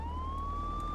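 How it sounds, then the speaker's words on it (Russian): A police siren wails steadily in the video game Euro Truck Simulator 2, a clear rising tone held loud and close over the low rumble of the engine. "Ну-ка. Сирену."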